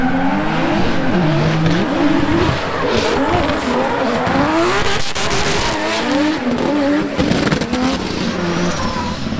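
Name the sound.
drift car tire squeal and engine during tandem drifting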